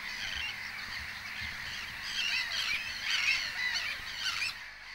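Dense calling from a seabird colony nesting on small islets by a pier, a steady mass of honking, overlapping cries that swell slightly midway, with no speech.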